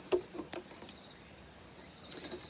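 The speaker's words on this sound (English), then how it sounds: "Hear the crickets and the cicadas at the same time." Crickets and cicadas chirping together at dusk in rural Japan, a steady high-pitched insect drone with a few faint distant clicks and chirps, no talking.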